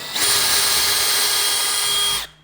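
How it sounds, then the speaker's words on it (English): A power drill bores a small pilot hole into a wall while a towel bar is being hung: one continuous high whine lasting about two seconds, close and loud, with no talking. "So we're gonna drill our first hole here, a little pilot hole."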